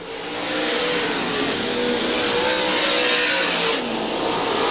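Sprint cars race side by side through turn one at Monett Speedway, their engines a loud, sustained high-revving roar that holds steady throughout, with a brief dip near the end.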